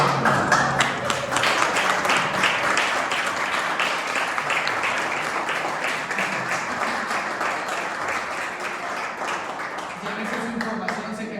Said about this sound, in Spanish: le damos un aplauso a Dios por la vida